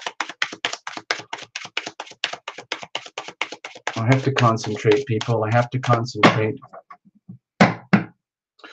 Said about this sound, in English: Okay, cards are shuffled. Cards are cut.